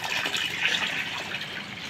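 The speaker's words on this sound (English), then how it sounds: "So we are going to pour this water." Water pours steadily from a container into another vessel for two seconds, a continuous bright gushing splash heard up close with no talking.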